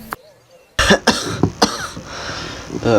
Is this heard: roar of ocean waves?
no